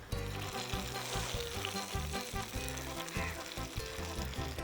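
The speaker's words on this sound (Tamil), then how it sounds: "நம்ம சின்ன வெங்காயம் இப்போ நல்லா ப்ரௌன் கலராக வந்திருக்க, நீ ஆட் பண்ணலாம்" Small onions (shallots) sizzling in hot oil for a Kerala-style tempering, a dense crackling fry heard close and steady throughout, with occasional stirring and no voices.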